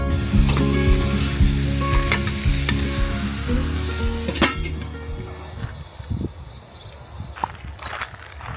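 Home-kill venison back steak sizzles loudly on a cob cooker at a campsite, a dense crackling hiss with occasional pops and scrapes that gradually eases and thins toward the end.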